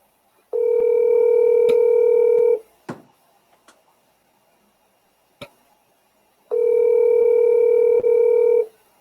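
A telephone line sounds while a call is placed: two long, loud, steady tones separated by a quiet gap holding a few clicks and taps.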